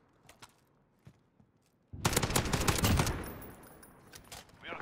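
Gunfire from an FAL rifle in Call of Duty: Modern Warfare multiplayer, a few faint isolated shots followed by a loud, sustained burst of rapid fire that fades away, with distant shots continuing afterward.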